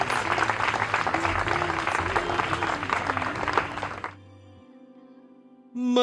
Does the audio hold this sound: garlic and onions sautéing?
no